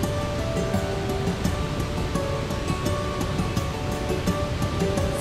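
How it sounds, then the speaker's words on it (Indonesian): Curug Sodong, a roughly 20-metre waterfall with a strong flow in West Java, produces a constant, loud, dense roar of falling water that fills the whole clip without letup. "Ketinggian air terjun ini sekitar 20 meter dengan debit air yang cukup"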